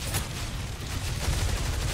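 Dense, continuous gunfire in Rainbow Six Siege, a loud sustained rattle of shots with a sharp crack near the start, no voices over it.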